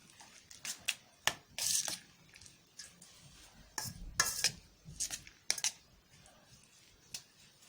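A spatula scrapes and clinks against a pan while eggs are stirred through Korean-style egg fried rice, an irregular run of sharp metallic taps and scrapes, close and fairly loud, with no talking.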